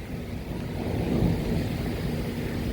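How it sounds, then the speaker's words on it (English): Low rolling thunder from a severe thunderstorm over Dauphin Island and Mobile, Alabama, rumbling steadily for a few seconds at a distance and swelling slightly midway, mixed with wind and rain noise. "There's the thunder. It's coming from my south."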